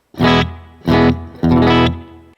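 Three distorted electric guitar chords from a Line 6 POD HD500X ring out one after another, each sustained with a reverberant tail, with short gaps between them.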